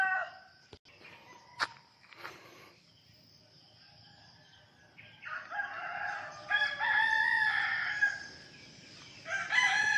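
A rooster crows several times at moderate distance, its calls stretching over insects chirping steadily in the background.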